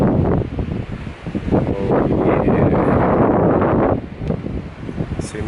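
Strong wind roars and buffets the microphone continuously on Boracay, with a brief lull near the end and faint voices underneath.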